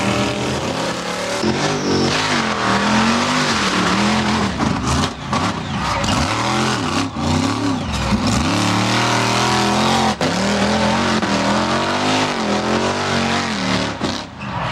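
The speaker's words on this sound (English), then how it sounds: "Whoever runs over the cars in the obstacle course the fastest will be the winner." A 1946 Chevrolet tow truck drives over cars on an obstacle course, its engine loud and close, revving and labouring in rising and falling surges with metallic crunches throughout.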